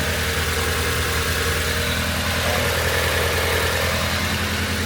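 A Proton Satria GTi engine running after a coil on plug conversion, a loud, steady, close idle with continuous droning hum and vibration and no voices.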